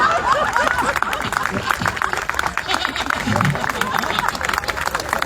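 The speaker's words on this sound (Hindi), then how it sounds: "देखो पुरुषों से हम ज्यादा तालियों की उम्मीद करते हैं" An audience at a Hindi kavi sammelan poetry event applauds in a dense, continuous patter of clapping, with a voice and crowd murmur running underneath.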